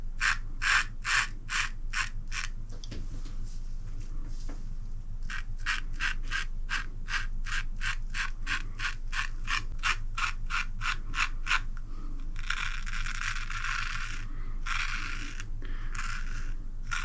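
An antique straight razor scrapes across stubble in a steady series of short, crisp strokes, each a bright rasping swipe, then a longer, denser scraping passage near the end over a low constant hum.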